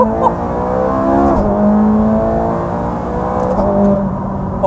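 Ferrari 430 Scuderia V8 engine pulls hard in first gear, a loud, rising harmonic roar climbing steadily in pitch with a brief dip, heard close up from inside the car.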